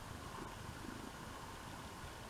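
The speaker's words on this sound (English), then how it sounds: "Oh, she's purring." A cat purrs in a steady, unbroken low rumble, quiet and close, with no talking over it.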